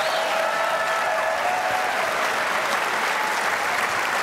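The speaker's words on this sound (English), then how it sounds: "This next one's a bigger round of applause" A large forum audience gives a full, steady round of applause, dense and even from start to finish with no pauses.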